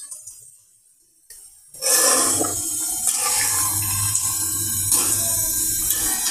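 Hilsa fish pieces go into hot oil in a home kitchen for mustard hilsa, and after a couple of quiet seconds a loud, steady sizzle and crackle begins, filling the rest of the clip with no talking.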